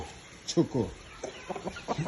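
Young roosters of a fighting breed cluck in short soft bursts at close range, quiet and intermittent over a faint background.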